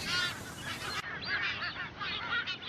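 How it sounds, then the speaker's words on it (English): White-tailed tropicbirds call on an island, a series of shrill, whistle-like cries repeating in quick bursts, fairly close and loud, with no voices. "Sailors nicknamed them bosun birds because their calls sound like a bosun's whistle"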